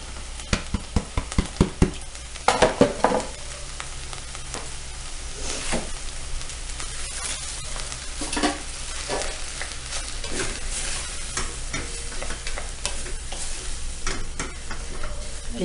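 Onion and rice fry in a pot with a continuous sizzle as a spoon stirs and scrapes, with a burst of quick clacks early on and then steady stirring strokes, close up.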